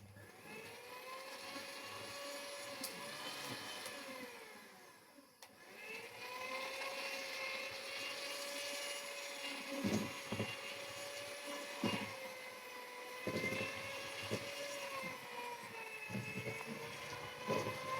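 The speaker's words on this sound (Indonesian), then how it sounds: "kita mixer sampai semuanya merata dan cair ya" An electric mixer whirs through dadar gulung crepe batter thinned with water, a steady high motor whine that dips briefly midway, then resumes with small bumps and knocks against the bowl.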